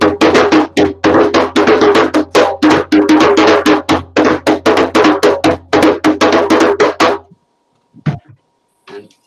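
A voice imitates an African djembe drum with a long run of quick, loud, evenly spaced hits that stop abruptly, followed by a few faint sounds.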